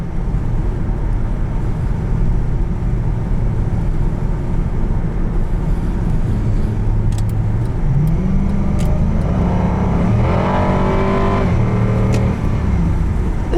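A 2006 Cadillac XLR sports car drives at speed on a test drive, its engine a loud, steady drone with road roar that rises in pitch as it accelerates near the end.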